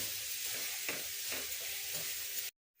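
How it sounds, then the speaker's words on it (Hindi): Bottle gourd frying in ghee while being stirred, a close, steady sizzle with a few soft scraping strokes, no talking, ending abruptly in silence. "जब तक ये लौकी भुन नहीं जाती, हमें ऐसे ही चलाना, 2-2 मिनट पे हमको ये लौकी चलानी पड़ेगी।"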